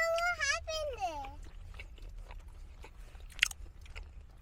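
Crunchy Korean fried chicken being bitten and chewed, with soft crackly crunches scattered through the clip after a voice speaks briefly at the start.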